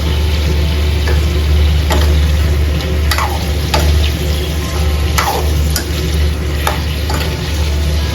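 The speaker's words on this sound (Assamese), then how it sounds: "ফ্ৰাই কৰি থাকিম হাই ফ্লেমত।" Chicken pieces frying on high flame in a pan for a local chicken recipe, with a steady loud sizzle and intermittent scraping stirs throughout, no voices.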